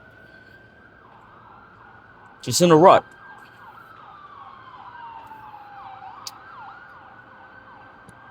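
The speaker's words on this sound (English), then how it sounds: "There's an ambulance going on in the background." Ambulance siren wailing outside, a steady high tone sliding into a repeating yelp, heard through a room at moderate level while a person speaks briefly over it.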